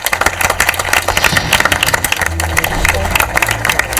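A crowd claps steadily for contestants at a current-affairs quiz show final, with busy applause and some cheering murmur filling the whole stretch, a voice faintly mixed beneath.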